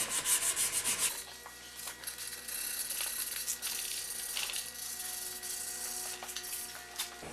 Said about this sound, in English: So doing it by hand is kind of nice